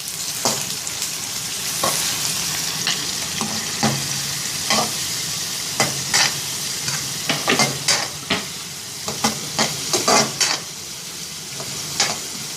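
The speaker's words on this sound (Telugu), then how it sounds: "మనం ఈ ఉల్లిపాయలు అందులో ఉన్న పచ్చిదనం పోయినంత వరకు వేసుకోవాలి, ఎక్కువగా వేసుకోకూడదు." Onions sauté in oil with turmeric for a spinach fry, a close steady sizzle broken by frequent sharp spatula scrapes and taps against the pan.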